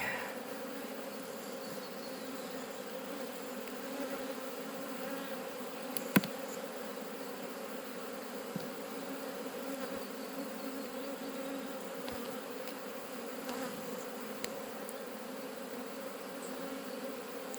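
Honey bees buzzing steadily at an open hive during an inspection of a small colony, a dense continuous drone from many insects close by, with no talk.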